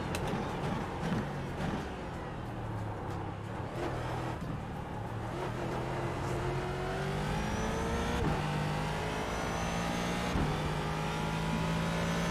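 Race car engine in a racing sim at Suzuka, droning steadily and rising in pitch as it accelerates through gear changes, with brief dips between shifts and no talk.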